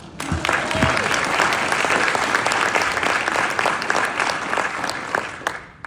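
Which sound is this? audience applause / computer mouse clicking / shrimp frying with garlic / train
audience applause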